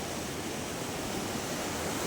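Heavy river floodwater rushing past in a steady, dense roar, loud and continuous with no voices over it.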